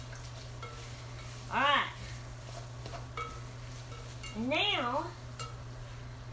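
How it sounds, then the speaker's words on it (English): Goulash being stirred in a pan, with a spatula giving two squeaky scraping sweeps over a low steady hum and soft background clatter; a voice speaks briefly. "So I'm going to stir that up."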